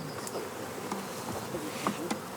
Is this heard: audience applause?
no